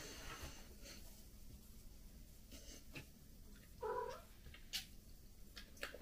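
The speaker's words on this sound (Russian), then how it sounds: "К нам пришла кошка." Cat meowing indoors near a window, one brief, faint meow partway through, set against low room noise and light shuffling.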